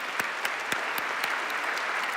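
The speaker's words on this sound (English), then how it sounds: "Let's give them a warm round of applause" An audience at a summit panel gives a round of applause, a dense, even patter of many hands, moderately loud and continuous, with a few sharper claps standing out.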